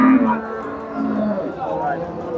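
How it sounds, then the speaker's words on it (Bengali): A Friesian dairy cow at a cattle market lets out a loud, close moo that rises and then trails off, while murmuring voices carry on faintly behind it. "ফ্রিজিয়ান গাভী,"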